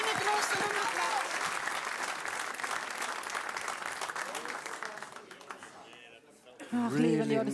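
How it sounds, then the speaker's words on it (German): Dense, sustained audience applause at the Hänneschen puppet theatre in Cologne, a broad wash of clapping that fades before a voice speaks over it at the end. "Schöne große Applaus."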